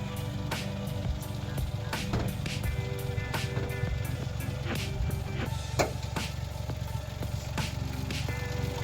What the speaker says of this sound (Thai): เครื่องเดินนิ่งครับ